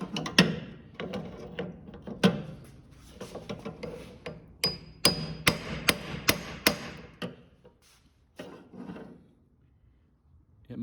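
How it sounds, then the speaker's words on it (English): A hammer tapping a socket set against a gear on an old Snapper mower, sharp metallic knocks coming in irregular bursts, with a quick run of close, loud taps in the middle and quieter gaps between. "Let's see if we can tap on that a little tappy tap."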